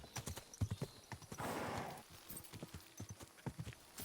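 Horse hooves clip-clop steadily in the medieval video game Kingdom Come: Deliverance II, a brisk, even rhythm of close, moderately loud footfalls with a brief whooshing swell partway through and no voices.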